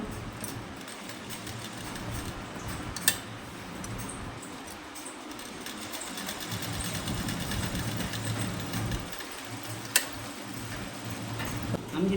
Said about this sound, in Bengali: ফাঁকার নিচের দাগ পর্যন্ত আমরা সেলাইটা করব